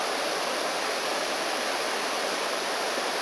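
River water rushing steadily along a forest trail in Zahamena, Madagascar, a dense, continuous broadband roar with no pauses, close and fairly loud, no voices.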